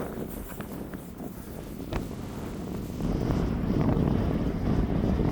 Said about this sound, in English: Very windy, so sorry.